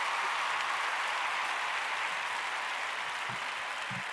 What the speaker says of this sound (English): Let me give a little round of applause here on the sound effects.